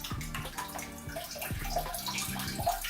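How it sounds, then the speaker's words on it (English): Water drains from a 30 gallon freshwater fish tank in a close, continuous splashing gurgle with repeated bubbly pulses and no talking. "So I drained some of the water out."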